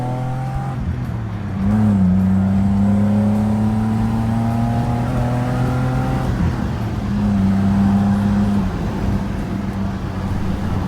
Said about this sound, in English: I'm in love with this BMW engine sound.